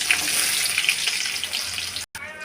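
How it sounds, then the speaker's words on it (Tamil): Mustard seeds and onions sizzling in hot oil in a pan for spring onion fried rice, a close, steady, bright hiss with faint pops that cuts out for a moment near the end. "கடுகு பொறிஞ்சிட்டு வெங்காயம் உள்ளே சேர்த்துக்கலாம்"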